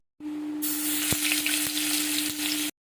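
Onion paste dropped into hot oil left from frying potatoes for a katla fish curry, bursting into a loud bright sizzle that holds steady, with a few sharp knocks from stirring under a constant low hum.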